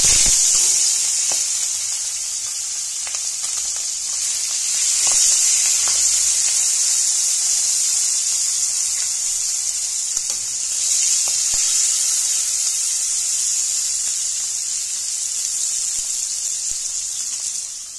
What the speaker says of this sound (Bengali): এবার মাছগুলোকে আমি কড়াইয়ে এক এক করে তেলের উপর ভেজে নেব